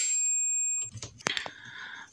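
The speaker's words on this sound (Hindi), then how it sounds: "क्वांटिटी पे सेट करेंगे और बीप की आवाज़ आनी चाहिए" A multimeter set to continuity gives a steady electronic beep for almost a second while testing a refrigerator's bimetal defrost thermostat, then the beep stops and a few handling clicks and taps follow close by.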